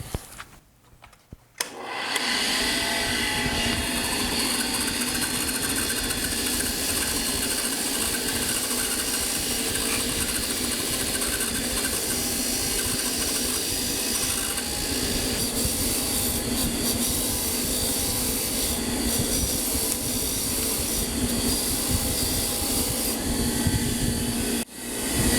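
A steady, continuous grinding whir of a wire wheel against rusty metal on a 1972 Honda CB450 motorcycle, loud and close, running without pause after a brief quiet start.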